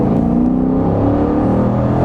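A 2018 Dodge Durango R/T with its 5.7 liter 360 horsepower engine accelerating, a loud steady engine roar with rising drone, close and continuous with no talk.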